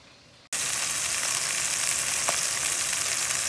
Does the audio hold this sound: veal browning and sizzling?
yes